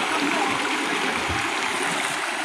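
Stream water flows at a natural spring in Calumpang, Liliw, Laguna, making a steady, even rushing and babbling close by, with no voices.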